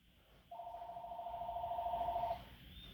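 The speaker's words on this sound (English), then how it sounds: "the phone ringing!" A single electronic telephone ring warbles steadily for about two seconds, loud and close, then cuts off into quiet room noise.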